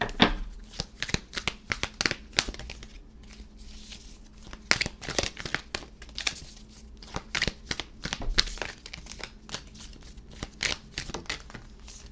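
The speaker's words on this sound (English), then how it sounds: "let's go ahead and pull you some oracle cards" Oracle cards being shuffled by hand, a dense run of crisp papery riffles and flicks that carries on steadily, close and fairly loud.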